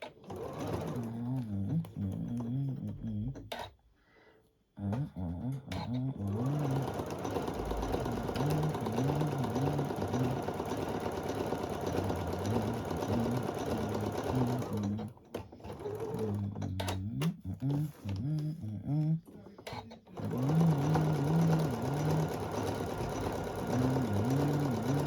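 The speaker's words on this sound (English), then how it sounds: "Foot down, needle down. And I'm going to do a lock off stitch because I'm starting in the middle." A sewing machine runs continuously in fast rhythmic bursts while stitching a mini table runner, pausing briefly a few times before starting again.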